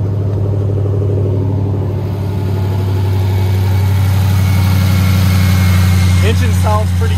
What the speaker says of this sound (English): Engine sounds pretty good to me, guys.